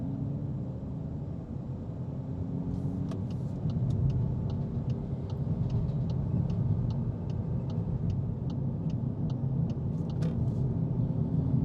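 2025 VW Golf R with its new Continental turbocharger accelerating, a steady low engine rumble from inside the car, with a regular ticking sound running over it for several seconds.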